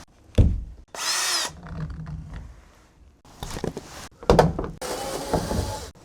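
A cordless power drill whirs in short bursts while removing screws from the interior light fixture of a kei car, with clicks, knocks and handling noises between the runs, close and fairly loud.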